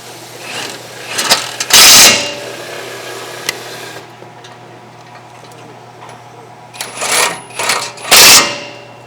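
Pneumatic impact gun driving bolts back into the rear brakes of a 2015 Ford F150, loud, close buzzing hammer bursts around two seconds and again near seven to eight seconds, with quieter shop noise between.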